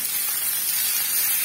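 Masala-coated fish fries in hot oil in a pan, giving off a loud, steady, continuous sizzling hiss with no pauses and no voices.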